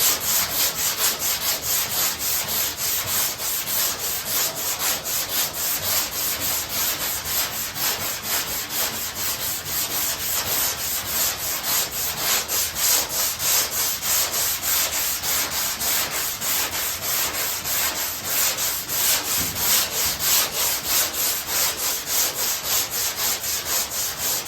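Steady, continuous rasping of a sanding block worked back and forth over body filler on a car body panel, close and even in rhythm, with no voices.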